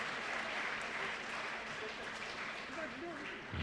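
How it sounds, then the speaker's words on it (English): Seminar audience at a chemistry conference clapping for a lecturer, a dense, even wash of applause filling the room for a few seconds, with faint voices mixed underneath. "So we give a big clap to our sir."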